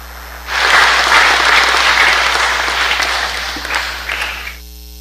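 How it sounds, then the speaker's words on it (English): Audience applause at the Kamorale Expo welcoming the President of the Federated States of Micronesia to the podium, loud and sustained for about four seconds before trailing off, with no talking. "let's give him a round of applause and welcome him to the podium"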